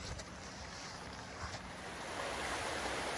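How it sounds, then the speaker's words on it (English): Broad, steady rush of river water at a wide crossing in a wild gorge, continuous and fairly loud with wind buffeting the microphone, building slightly toward the end. "We have made it to the river."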